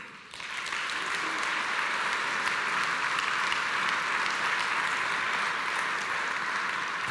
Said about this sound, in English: please join me in warm welcoming and a huge round of applause